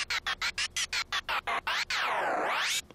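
Bright metallic hi-hat hits from the Massive synthesizer tick in a quick even pattern, then a longer ringing metallic tone sweeps down and back up before cutting off.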